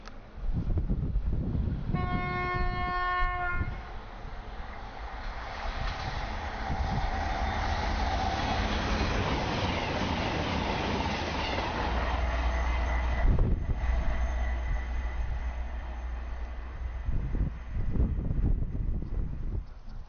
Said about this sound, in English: A Class 221 cross-country Voyager passes towards Newcastle.